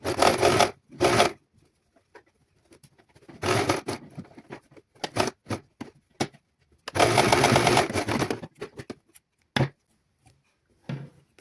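Sewing machine stitching the opening of a frock or chudithar in a tailoring class, running in several bursts of rapid even stitching with short pauses between, close and fairly loud.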